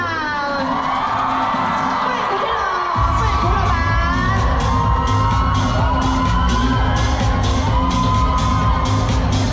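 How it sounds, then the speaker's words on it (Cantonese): Fans at a celebrity event in Kuala Lumpur scream and cheer in a loud, continuous roar of high-pitched shrieks and whoops that swells and holds steady throughout. "最熱情嘅聲音，你哋嘅尖叫聲"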